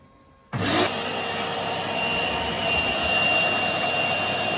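A shop vac running through a bagless cyclone dust extractor with a bucket switches on abruptly and roars at a steady, loud, broadband whine, close by and continuous.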